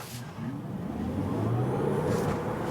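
A Tesla Model Y AWD Long Range accelerates hard on the Autobahn, its electric drive whine rising steadily in pitch and growing louder over road and wind noise.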